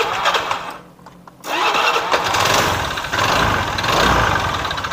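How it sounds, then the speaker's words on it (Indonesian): A used motorcycle engine, with 60,000 km on it and in for restoration, runs steadily at close range after a brief quiet gap, with an odd noise from the CVT area. "Mesinnya kayak gini suaranya Mas."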